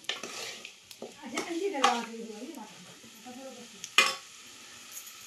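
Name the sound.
chicken frying and stirring in a pan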